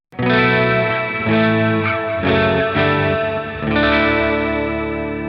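Chords on an electric guitar ring out heavily processed with chorus and distortion, sustained and loud, struck several times in succession.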